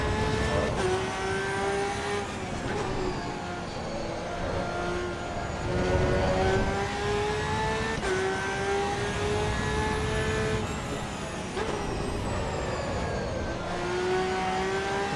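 Porsche racing car engine in a driving game lapping Brands Hatch or the Nordschleife, a steady loud whine with rising and falling pitch through gear changes, continuous throughout with no talk.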